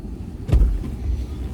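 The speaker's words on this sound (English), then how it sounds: "So Scout is fixing to get in the car." A car door thumps shut once as someone gets into a car, a single low dull impact followed by faint movement and quiet vehicle rumble, nearby and moderately loud.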